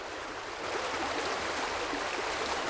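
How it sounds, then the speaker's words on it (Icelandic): A small waterfall pours down almost directly overhead inside Stakkholtsgjá canyon, a constant broadband rushing of falling water that stays steady and close for the whole stretch, with no voices. "lítill foss steypist næstum því beint ofan á mann"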